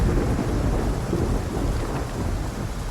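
Heavy rain and rolling thunder from a storm in the city-building game Tropico 4, a dense, continuous, loud wash of rain with a low rumble underneath and no talking.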